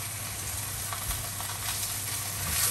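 Liver browns in a frying pan for Berlin-style liver, giving off a steady, close hiss of sizzling fat with no pauses or talk.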